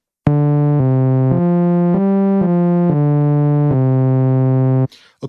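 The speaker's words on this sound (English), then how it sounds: "so this is the sawtooth waveform." A bright, buzzy sawtooth oscillator tone from the discoDSP Discovery synthesizer plays a series of sustained notes stepping up and down in pitch, loud and harmonically rich, before cutting off into a short burst of noise.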